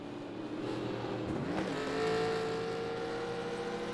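1987 NASCAR Legends stock cars race around the Charlotte oval in iRacing, their engines a steady, close droning roar, with one car's pitch sweeping past around the middle before the pack settles into a sustained, rising whine.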